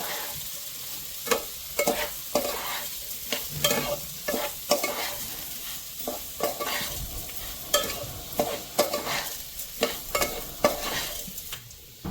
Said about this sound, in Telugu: ఇప్పుడు చక్కగా శుభ్రంగా కలుపుకోండి అన్నీ కలిసేటట్టు